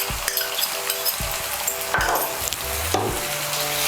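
Ginger, garlic and green chili pastes with tomato paste frying in oil, a dense steady sizzle punctuated by regular spatula knocks and scrapes against the pan.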